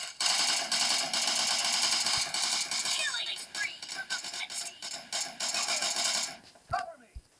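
Heavy machine gun fire from the video game PUBG Mobile hammers as a loud, continuous stream of rapid shots through the first three seconds. Shorter bursts follow, and a voice speaks faintly under the gunfire.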